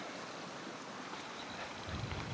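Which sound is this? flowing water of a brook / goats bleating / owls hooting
flowing water of a brook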